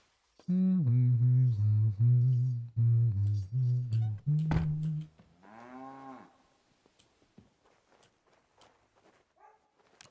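A cow in the medieval-set video game Kingdom Come Deliverance 2 gives a few long, loud moos in quick succession, then a shorter lowing call follows, with quiet background sounds trailing off afterward.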